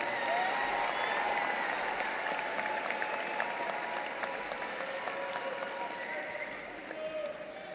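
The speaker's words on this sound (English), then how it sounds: "give those guys a round of applause as they go off one more time" Sustained audience applause at a high school commencement ceremony, a dense continuous roar of clapping from a large crowd that fades slightly toward the end.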